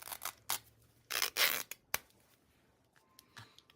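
Scissors snip paper for a craft side pocket, several crisp, close cuts in quick bursts with short pauses between them.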